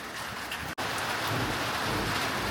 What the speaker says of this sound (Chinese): 这雨越下越大了